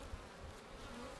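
A soft, steady hum of many honey bees buzzing around an opened hive, a faint continuous drone heard alone for a brief moment.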